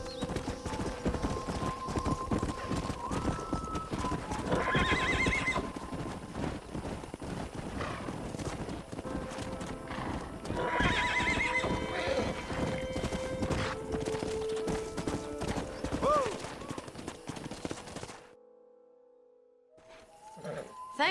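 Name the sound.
horse hooves and neighing in the Red Dead Redemption video game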